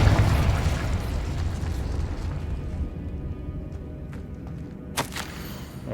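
A Confringo fire spell cast in the Hogwarts Legacy video game bursts with a loud, rumbling explosion at the start that decays over several seconds, followed by a sharp crack near the end.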